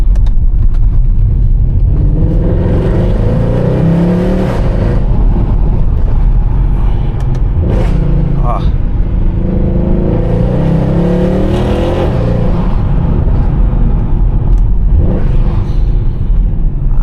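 A 2012 Mercedes-Benz C63 AMG W204 with its 6.2-litre V8, driven at night, heard from inside with a loud, steady engine drone and road rumble that rises and falls as the throttle changes, with no talk.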